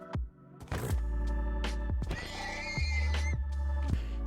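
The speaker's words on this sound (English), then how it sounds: "I was going to have to kill all these horses for their leather" Horses in Minecraft neighing and whinnying repeatedly, several calls in quick succession over a low hum, clear and alone without voices.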